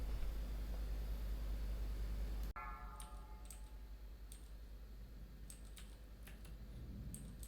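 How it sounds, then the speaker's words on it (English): Quick, scattered keyboard clicks tap away in short bursts over a steady low hum, with no voices, as keys are spammed while playing World of Warcraft: Wrath of the Lich King. "let you hear me spamming my keyboard to ensure that my pet is always attacking"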